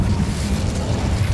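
Incendio fire spell cast in the video game Hogwarts Legacy: a dense, rumbling burst of fiery whoosh with heavy low-end boom, sustained and loud throughout the short moment, with no talking.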